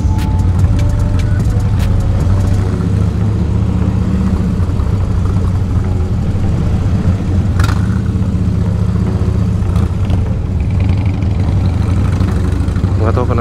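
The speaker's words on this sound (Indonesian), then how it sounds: "macet banget hari Jumat Antasari" Heavy Friday traffic jam on Antasari road in South Jakarta, cars idling close by with the deep steady rumble of a Harley-Davidson Dyna engine loud in front and occasional light clatter from nearby vehicles.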